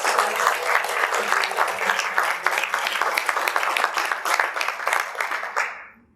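An audience at an event at the Brooks Museum of Art claps loudly and continuously for about six seconds, with distinct claps audible before the applause tapers off at the end.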